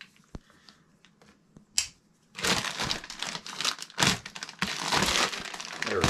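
A knife slices through the packed casing of a military surplus down sleeping bag: a few sharp clicks first, then a long stretch of loud crinkling, rustling and tearing up close.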